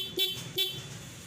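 The stock horn on a Sniper150 motorcycle gives two short, sharp honks close to the listener.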